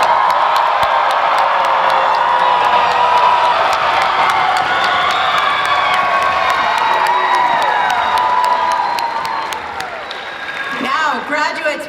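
A graduation audience cheers and applauds loudly for a high school graduating class, dense clapping mixed with whoops and shouts that thins out toward the end.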